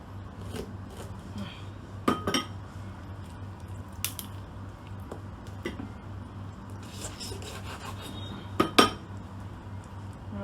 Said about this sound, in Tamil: இந்த ஜாயிண்டில் நம்ம வச்சு 2ஆக கட் பண்ணி எடுக்க போகிறோம்